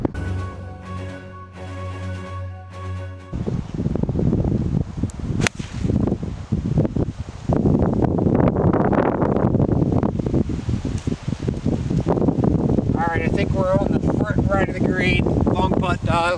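Wind gusts roar across the microphone on a Myrtle Beach golf course, a broad rushing buffet that swells and eases, with a short stretch of music at the start.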